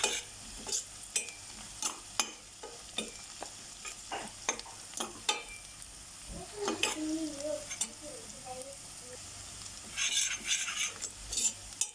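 Curry powder and chopped tomatoes with a little sugar sizzle softly in a pan while a utensil stirs and scrapes, with sharp metallic clicks against the pan throughout.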